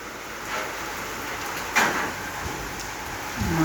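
Steady rain from a typhoon hissing outdoors, with a brief scrape or knock partway through and a low rumble near the end.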